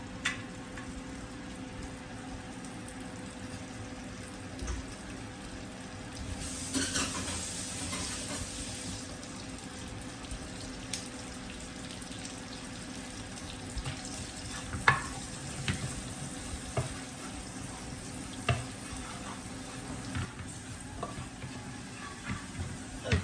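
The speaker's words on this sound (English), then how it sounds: "Turn on the stove and put the butter and chop garlic" Chopped garlic frying in butter on a stove, a low continuous sizzle with scattered scrapes and clinks of stirring, faint and even over a long stretch.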